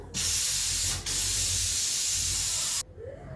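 A kitchen mixer grinder whirs loudly and steadily while grinding cumin with batter ingredients for sorghum palm-jaggery paniyaram, with a short dip partway through before the motor cuts off abruptly near the end.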